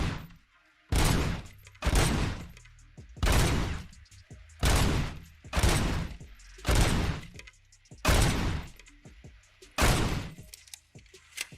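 Loud, evenly spaced gunshot blasts ring out at a shooting range in a RoboCop video game, about eight booming reports each trailing into a short decay, with no talking.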